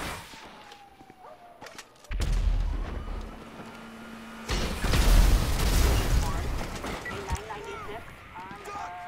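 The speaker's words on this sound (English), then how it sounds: "And why not chuck the RPG in there?" RPG rockets fired in GTA 5 story mode with cheat codes, producing two heavy booming explosions a couple of seconds apart, each followed by rumbling debris and crackle, loud and close.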